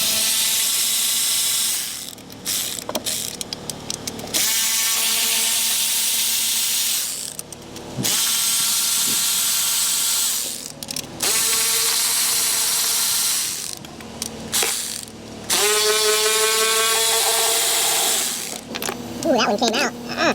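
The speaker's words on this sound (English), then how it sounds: "So let's get all the perimeter bolts out of the intake." A power ratchet whirs in loud, sustained bursts with brief pauses as intake manifold bolts come out of a Ram 1500 5.7 Hemi. The whine rises in pitch toward the end of each burst.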